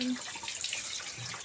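Water pours in a steady, rushing hiss while a washing machine is being cleaned, a close and continuous splashing flow with no voices.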